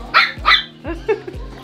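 A dog near a cage at home gives several sharp, close barks in quick succession, two high yaps followed by a couple of lower, shorter woofs.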